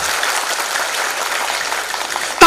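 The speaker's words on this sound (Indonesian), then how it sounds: "Tepuk tangan dulu buat semuanya." Steady applause from an audience at an Islamic religious study gathering, dense, even clapping held at a constant level throughout, ending with a brief sharp knock.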